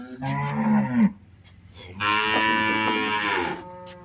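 A Nili-Ravi buffalo lows twice, close and loud: a short call, a pause, then a longer, drawn-out moo. No talking.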